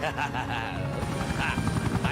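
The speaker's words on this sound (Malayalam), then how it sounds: "ഹെലികോപ്റ്റർ അവിടെ നിർത്തണം." Rhythmic thudding of a helicopter's rotor, steady and fairly close, with voices talking over it.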